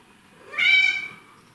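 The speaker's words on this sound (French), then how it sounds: "Tais-toi, le chat." A cat meows once indoors, close and fairly loud, a single drawn-out call with no talk over it.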